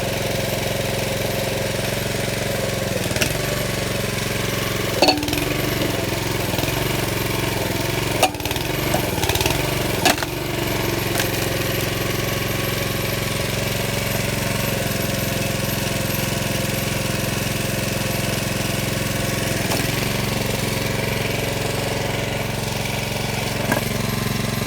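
The gas engine of a new log splitter runs steadily throughout, a loud, rough, continuous chugging drone with a few brief knocks and clanks scattered over it and no talking.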